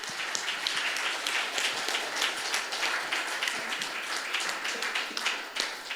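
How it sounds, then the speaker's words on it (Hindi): An audience at a meditation festival claps steadily in a dense, continuous wash of applause, even and sustained throughout with no talk over it. "एक बार जोरदार तालियां के लिए"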